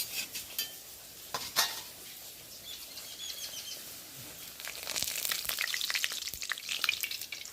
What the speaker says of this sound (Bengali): এদিকে তেলও গরম হয়ে গেছে একটা একটা করে ভেজে নেবো